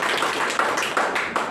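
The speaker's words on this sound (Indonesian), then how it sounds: "Kita berikan tepuk tangan yang paling meriah bagi Raja kita, bagi Yesus Kristus kepala gereja." A church congregation claps together during a Sunday service, a dense, steady burst of applause filling the space with no one speaking over it.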